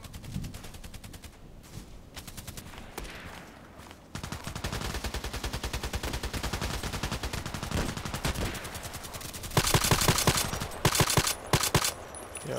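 Rapid, loud gunfire in a video game, with EBR sniper rifle shots cracking out in dense repeated bursts and volleys over several seconds, growing heavier toward the end.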